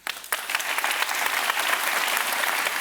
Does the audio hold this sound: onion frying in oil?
no